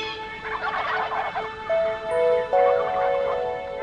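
A wild turkey gobbles in a loud, close, rapid rattling burst, followed by a couple of sustained tonal calls, heard alone without talk.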